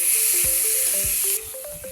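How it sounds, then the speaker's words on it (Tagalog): Garlic, onion and tomato sizzle loudly as they sauté in a pan for tilapia sarsiado, with a steady hiss punctuated by a few soft clunks of a spoon stirring through the mixture. "Magigisa na po tayo ng ating lulutuin. Ilagay po tayo ng bawang at sibuyas at kamatis."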